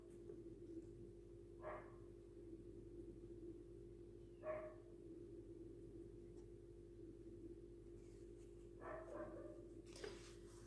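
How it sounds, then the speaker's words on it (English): A dog barks faintly three or four times at a distance, short isolated yaps spread over a steady low hum. "The dog barking."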